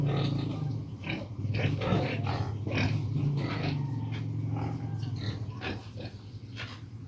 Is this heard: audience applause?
no